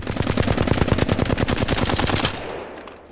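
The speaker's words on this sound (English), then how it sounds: "we're going to see exactly how the Flatline looks right now without me holding down anything." Flatline rifle in Apex Legends firing a sustained full-auto burst of rapid, evenly spaced loud shots for about two seconds, then a short fading tail, no talking.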